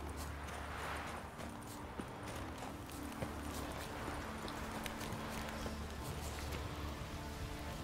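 Horse hooves clip-clopping in The Witcher 3 video game, a soft, steady walking rhythm under light rain and a low background hum, with no talking.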